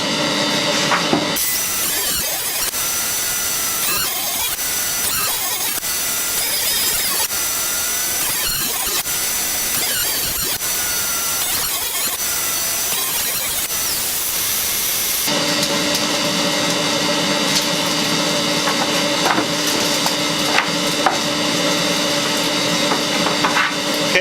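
A planer shaves warped oak boards, a loud steady high whine with a rough cutting texture for about fifteen seconds, then the machine keeps running empty with a smoother hum.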